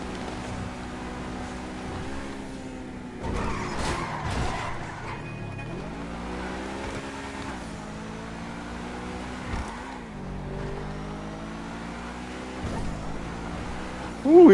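A car racing through a chase in the video game GTA V, its engine revving and shifting pitch up and down over several bursts, with brief tyre skids and a sharp squeal at the end.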